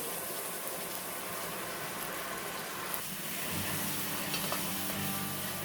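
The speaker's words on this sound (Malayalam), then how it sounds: "ഞാനിപ്പോൾ അരക്കപ്പ് വെള്ളം ഇതിലേക്ക് ചേർക്കുന്നതാണ്. പഞ്ചസാര ഉരുകിയിലേക്ക് വെള്ളം ചേർക്കുന്ന സമയത്ത് ശ്രദ്ധിക്കണം കേട്ടോ." Water poured into melted sugar for a plum cake caramel brings a constant hissing sizzle that swells into louder bubbling partway through, close and without talk.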